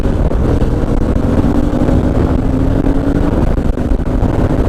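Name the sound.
automatic motorcycle engine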